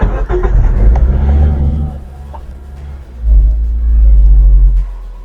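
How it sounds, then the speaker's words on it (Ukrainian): A Geely MK car running on gas starts up, its engine settling into a loud, steady low rumble close by, with a brief lull before the idle swells again. "Двигунчик запускається дуже добре, що зранку, що ввечері."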